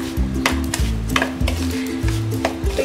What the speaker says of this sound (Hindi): अब हम इसे अच्छे से मिक्स कर देंगे।